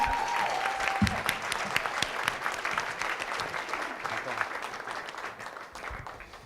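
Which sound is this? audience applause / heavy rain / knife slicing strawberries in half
audience applause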